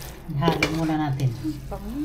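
Pancit canton noodles stirred in a pan, with close scraping and clinking of a utensil against the metal under a soft sizzle, and a voice heard faintly alongside.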